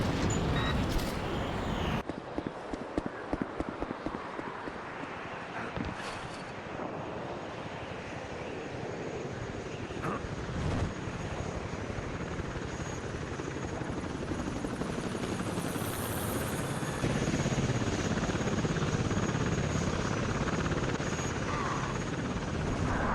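Helicopter in the video game Iron Storm, a steady loud rotor and engine drone with whooshing chop that persists throughout, with brief thumps near the start.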